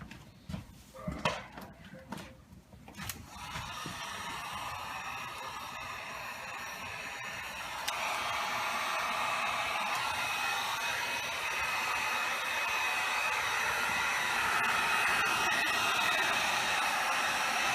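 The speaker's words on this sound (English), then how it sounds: "Now I'm gonna try to fix this as much as possible with the heat gun" Heat gun blowing hot air onto plexiglass in a French door, a steady close roar like a hair dryer that steps louder about a third of the way in and holds, after a few brief knocks at the start.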